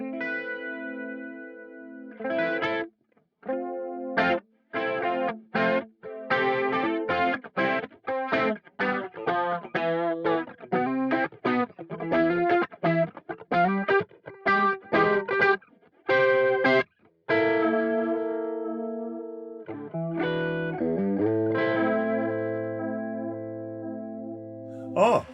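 An electric guitar plays a melodic line of plucked notes and chords through a Boss MD-200 modulation pedal's wobbling vibrato, the pitch warbling steadily, loud and upfront with no talking.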